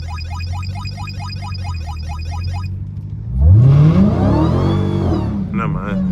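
Dodge Hellcat engine idling with a ticking whir, then revving hard as the tires spin, a rising roar that holds loud and close, with someone talking over it.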